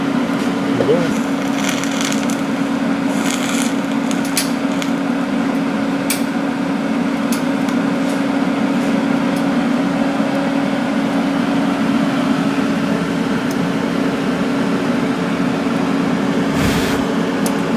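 Continuous hum and crackle of welding on a turbo mount in a home garage, held steady for over fifteen seconds with a few brief breaks and pops near the end.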